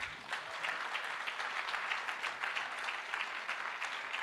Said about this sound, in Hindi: मैं चाहूँगा सबसे पहले इस सिस्टम के लिए जोरदार तालियां हो जाएं.